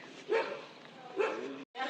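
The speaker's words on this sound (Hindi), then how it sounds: "ये कुत्ता पागल हुए जा रहा है" A dog barks excitedly, two loud close bursts roughly a second apart, over a steady background hum before a brief cutoff.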